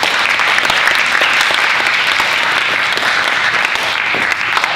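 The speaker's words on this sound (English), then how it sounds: "So a round of applause, please, for Diane." An audience at a youth alliance and foundation fundraiser applauds warmly and steadily, a dense, continuous patter of many hands clapping for the whole stretch with no voices over it.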